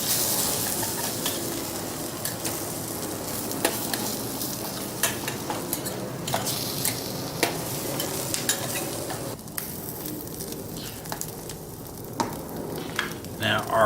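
Spam sizzling and frying in a canteen cup over a Sterno burner, a steady close crackle with sharp pops and spatters through the whole stretch, no voices.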